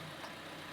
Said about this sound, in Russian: Мотор, видите, крутится.